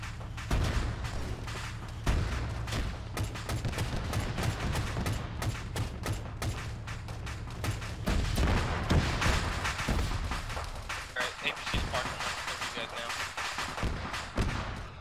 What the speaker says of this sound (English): We're taking shots to the rear of the vehicle.